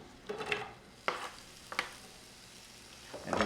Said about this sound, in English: So it looks like my olive oil is heated pretty well. So I'm gonna go ahead and throw in my onions